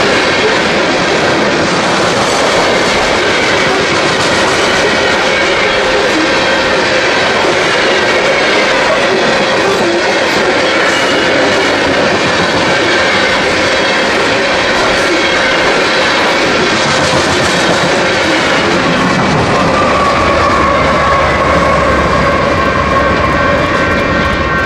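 A Union Pacific mainline freight train passes in Iowa with a loud, continuous rumble and rattle of rolling cars. A horn-like tone rises near the end.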